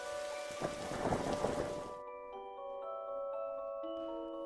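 Stormy rain and rumbling thunder in The DarkSide Detective roar as a dense wash for about two seconds, then cut away, leaving soft sustained musical tones.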